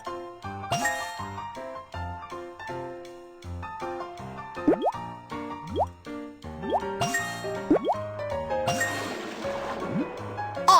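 Cartoon video game water filling connected pipes from a fire hydrant hose: bright tinkling, dripping and plopping tones in a playful musical rhythm, with a rising bubbly rush of filling water near the end, close and clear.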